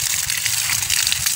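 Water gushes steadily from a hand-pressed bottle onto vegetable garden plants, a close, continuous hissing spray with no break and no talk.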